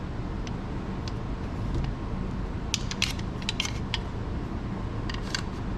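A Stribog firearm being disassembled, with the back plate pushed down and out: faint metallic clicks and a small cluster of sharp ticks over a steady background hum.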